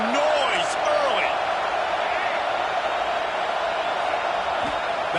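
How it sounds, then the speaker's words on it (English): Stadium crowd in a college football video game roars as a dense, continuous wall of noise with scattered whoops and whistles rising out of it. "This crowd bringing the energy and noise early."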